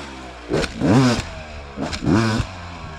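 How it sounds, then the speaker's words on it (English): A hard enduro dirt bike engine revs up twice in short, loud bursts, each rising and falling in pitch over a steady idle, heard close by and alone. "listen to my bike"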